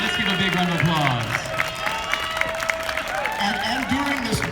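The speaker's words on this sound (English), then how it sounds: "Let's give a big round of applause." A wedding crowd applauds and cheers for the mayor, a dense spread of clapping with voices talking and calling over it.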